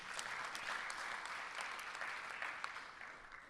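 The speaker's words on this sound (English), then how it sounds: "you can clap for that" An audience at the Democratic National Convention's Native American Caucus meeting breaks into steady applause, a dense crowd of clapping hands heard at a distance and holding level for several seconds before easing slightly.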